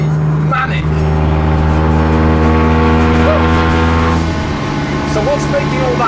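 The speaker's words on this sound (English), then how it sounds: "So what's making all that noise? Well, it's actually a standard Octavia vRS engine." A turbocharged Skoda Octavia vRS engine in a 227mph Bonneville special drones loudly at high revs, a steady roar with a slight pitch shift partway through, while a voice speaks faintly beneath it.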